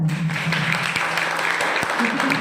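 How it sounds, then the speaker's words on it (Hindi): Applause from an audience at a school gathering about Gandhi, steady clapping of moderate loudness with a few sharper claps standing out and a low hum underneath. "सभी सदस्यों के लिए एक बार जोरदार ताली।"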